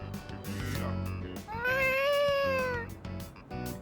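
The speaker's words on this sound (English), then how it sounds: "Was that a cat? Is it Michan-san? Heard a kitty?" A cat in the video game Persona 3 Reload lets out a single drawn-out, rising-then-falling meow, clear and fairly close, with other game sound before and after it.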